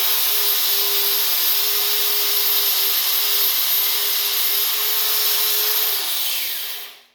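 A Bauer bandfile belt sander working a weld seam inside a metal tube, running as a steady high-pitched whine with constant abrasive hiss for several seconds before spinning down at the end.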